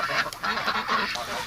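Winter ducks quacking and honking nearby in a quick chorus of overlapping calls, loud and close with no talk.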